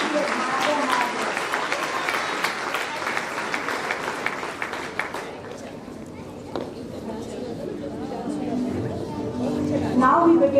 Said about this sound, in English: Deserves a thunderous applause. Please clap and let's let them know how much we admire their hard work.